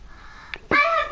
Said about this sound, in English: Hey, you like my wee parrot?